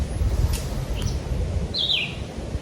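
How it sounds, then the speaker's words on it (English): Birds call outdoors, with a few faint chirps and one clearer whistled call above a low wash of wind and ambient noise. "There's birds singing all around me."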